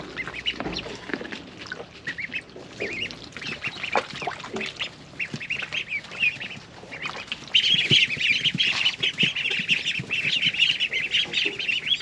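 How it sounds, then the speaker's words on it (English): A small flock of Khaki Campbell and Indian Runner ducks quacks and squawks up close, with overlapping calls and chatter that grow louder and more continuous in the second half; no one speaks. "I think we've got 4 khaki Campbells and 4 Indian runner ducks"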